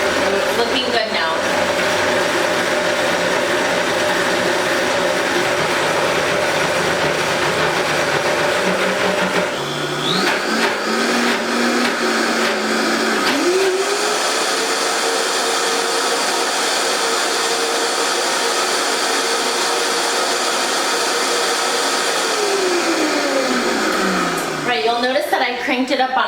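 Kitchen blender running on high speed, pureeing homemade lemony hummus until smooth; a loud continuous motor whine that shifts pitch and steadies, then winds down at the end.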